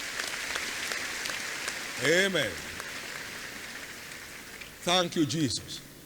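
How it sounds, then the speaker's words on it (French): A church congregation at a service applauds loudly, the dense steady clapping forming a continuous rain-like roar, while voices call out over it twice. "Acclamez très fort le Seigneur"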